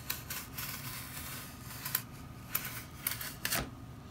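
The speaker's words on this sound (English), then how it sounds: "And the pink foam cuts real easily." A blade cuts through pink foam for a stream scenery diorama, making a series of short, close scratchy strokes and crisp snips with quiet gaps between them.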